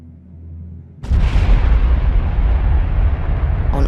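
A rocket engine explosion sound effect for a science-fiction story: a sudden loud boom after a low rumble, then a sustained, roaring, fiery wash that stays powerful to the end.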